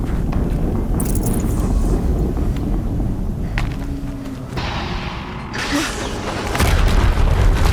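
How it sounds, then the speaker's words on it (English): A deep, rumbling explosion booms through a Horizon Zero Dawn battle scene, loud and sustained, with heavy low-end roar and noisy crackling bursts over about eight seconds. "Another explosion."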